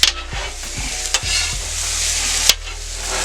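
Fried rice with steak, eggs and scallions sizzles on a steel hibachi griddle, a steady close hiss punctuated by sharp scrapes and taps of a spatula tossing the rice.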